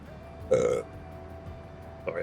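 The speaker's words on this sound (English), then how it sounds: "Sorry, I burped." A single short burp from a person, loud and close, standing out briefly over a steady low background hum during a gameplay session.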